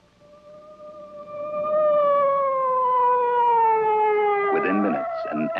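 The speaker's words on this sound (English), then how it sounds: "Within minutes, an ambulance was on the scene." A cartoon ambulance siren in Astro Boy wails in one long, steady tone that drifts slowly downward, loud and continuous, with a brief clatter of other noise near the end.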